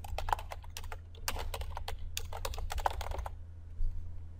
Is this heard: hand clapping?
no